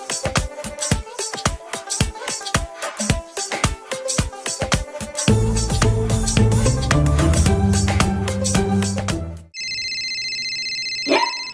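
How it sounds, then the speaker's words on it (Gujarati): A mobile phone ringtone plays loud and close as a rhythmic, plucked electronic melody that grows fuller midway, then breaks off into a brief sustained beeping tone. "આજે મારી જાનુનો ફોન આવ્યો"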